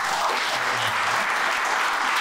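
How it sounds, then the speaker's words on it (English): A short, steady burst of audience applause follows a speaker-series presentation, a dense even patter of many hands with no pauses. "We had a round of applause."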